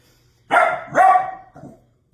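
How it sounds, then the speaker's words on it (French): A dog barks close by, two loud barks and then a softer third, each one short and sharp, in an otherwise quiet room. "mon chien qui jappe"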